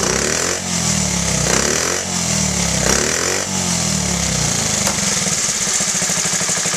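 A Honda Z50A minibike engine with a freshly adjusted carburetor runs close by with a loud, buzzy, steady putter and a few small throttle blips.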